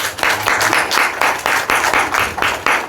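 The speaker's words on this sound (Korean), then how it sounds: "우리 하나님 되어주신 하나님께 영광의 박수를." A church congregation claps together in quick, rhythmic bursts, steady and full throughout, with a faint voice underneath.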